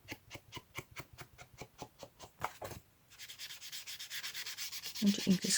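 Ink is rubbed onto a steampunk journal cover piece in a run of quick, rhythmic scrubbing strokes, then a softer continuous rubbing, all close and fairly quiet.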